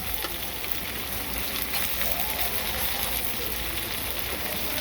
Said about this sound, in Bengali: মাছ ভাজা হয়ে গেছে এখন নামাবো